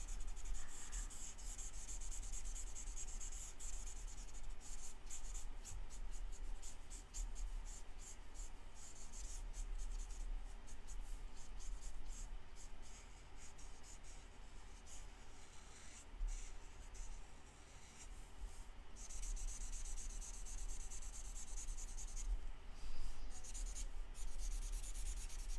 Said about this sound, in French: La pointe de mon blend commence à va moins bien. Tantôt, j'étais capable de colorier plus large que ça.